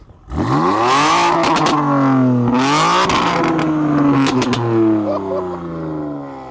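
An 840 hp Stage 2 Plus BMW M3 revs hard and loud, its harmonic engine note sweeping up and down through several throttle blips with crackling pops between them, close by.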